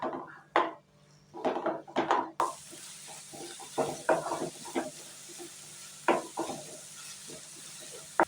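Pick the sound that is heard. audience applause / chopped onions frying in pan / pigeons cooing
chopped onions frying in pan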